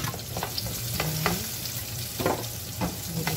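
Onion sautéing in a pan for chicken sweet and sour gives a steady close sizzle, broken by several scraping stirs of a utensil against the pan, with no talk.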